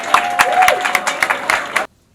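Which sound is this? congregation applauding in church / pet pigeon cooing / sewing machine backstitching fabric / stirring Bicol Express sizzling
congregation applauding in church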